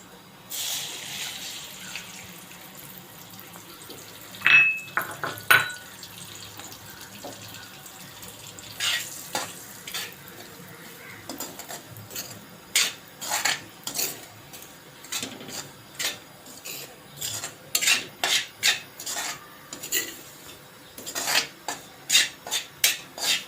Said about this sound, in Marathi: रवा चांगला भाजून घ्या, थोडा बदामी रंगावर येईपर्यंत।